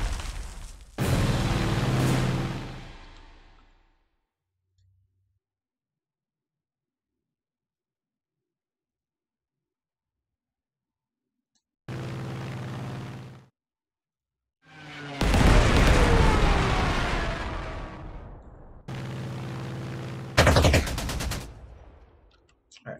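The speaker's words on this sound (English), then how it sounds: "Ooh, artillery hitting me." Artillery shells strike units in the wartime strategy game Panzer Corps 2, landing as a few loud, sharp booms with rumbling tails, separated by long silent gaps.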